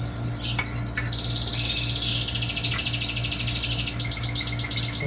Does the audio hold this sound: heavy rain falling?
no